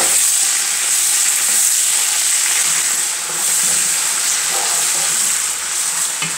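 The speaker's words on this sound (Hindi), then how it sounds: "अब मैं बिरयानी मसाले अनियन में मीट ऐड करूँगा।" Meat frying in a pan with onions and biryani masala gives a loud, steady, close sizzle with faint stirring throughout, no voices.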